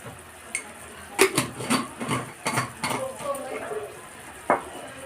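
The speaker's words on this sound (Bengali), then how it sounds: "এবার আমি মশলাটা নাড়িয়ে নিচ্ছি।" A utensil stirring spice mix in a metal pan while cooking potol (pointed gourd), giving irregular clinks and scrapes against the pan over a soft sizzle, close and moderately loud.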